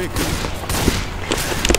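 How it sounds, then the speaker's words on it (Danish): Gunfire in the zombie shooter Left 4 Dead 2 comes as rapid bursts of shots, with several sharp cracks bunched near the end and game voices underneath. "Jeg vil skyde nogle af de der zombier."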